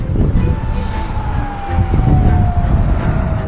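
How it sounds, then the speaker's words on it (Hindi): An air-raid siren tone in Israel during an Iranian missile attack glides slowly downward over loud rumbling traffic-like noise, sounding somewhat distant and partly masked. "पूरे देश भर में सायरन्स बजने शुरू हो गए थे"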